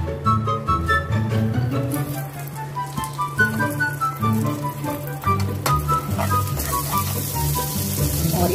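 About a spoonful of butter hits hot caramelised sugar in a pan and sizzles loudly and continuously up close, a crackling, rain-like frying hiss with occasional stirring scrapes.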